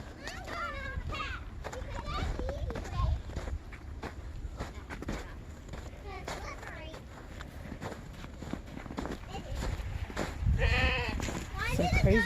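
Goats bleat repeatedly in a snowy, icy farmyard during a Texas snowstorm, several wavering cries close by with footsteps crunching through snow and a person talking in between.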